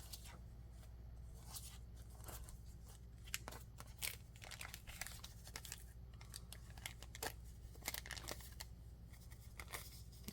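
Scissors cut through pink silk fabric, making a series of crisp snips and rustling crinkles close by over a steady low hum, with no talking heard.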